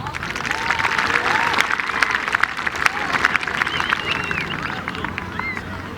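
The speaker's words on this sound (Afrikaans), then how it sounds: "Nou kan die hande klap." Audience applauding at the opening of an Astro hockey field, sustained dense clapping from a crowd for the full stretch, loud and steady with some crowd murmur beneath.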